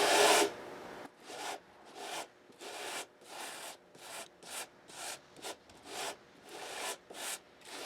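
Rhythmic rasping of a file across fret ends on a Gibson 335 guitar neck, close and fairly quiet, with evenly spaced strokes repeating about every half second.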